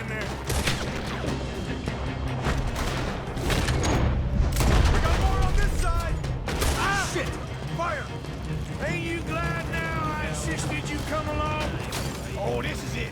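Gunfire in Red Dead Redemption 2: a fusillade of sharp shots with booming reports and rapid bursts, loud and sustained over a steady game soundscape, with talk mixed in.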